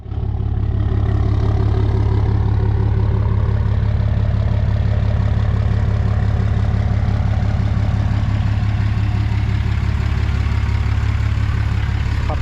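A pickup truck with its emissions equipment removed idles steadily and loudly up close, a deep, even rumble with a constant low throb and no change in pitch throughout, heard alone without speech.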